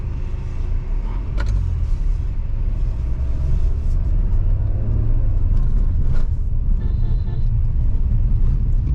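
Automatic Tata Safari SUV with a six-speed torque converter driving along a rough village road, steady heavy engine and road rumble with occasional thumps and rattles from bumps.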